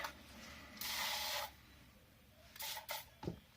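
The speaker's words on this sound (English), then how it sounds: "Let me spray it with some silicone spray." Short hissing bursts from an aerosol can of silicone spray sprayed on a cup, one longer spray followed by two or three quick puffs, close and fairly quiet.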